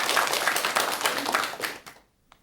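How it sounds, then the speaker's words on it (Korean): An audience at a Buddhist lecture breaks into applause, a dense, fairly close patter of many clapping hands lasting about two seconds before fading out. "못 보셨지만 박수를 한번 쳐드려"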